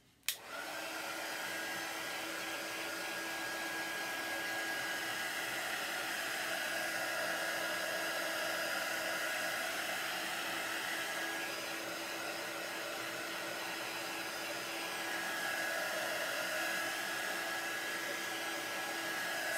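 A heat tool blows steadily to dry gold chalk paste on a craft project, a constant close whooshing hum with a faint whine, starting abruptly and running unbroken throughout.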